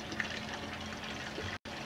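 Water from a garden hose runs and gushes in a steady, fairly faint stream, cutting out for a split second near the end.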